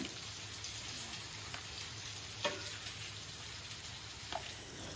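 Fish curry sizzles steadily in a pan as it is stirred, a constant faint frying hiss with a few soft scrapes and clicks of the spoon.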